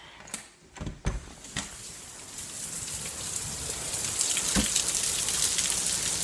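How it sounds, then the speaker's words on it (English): Heavy rain pours outdoors onto someone testing a rain poncho, a dense steady hiss that swells and grows louder over several seconds after a few sharp rustling knocks at the start. "It's pouring."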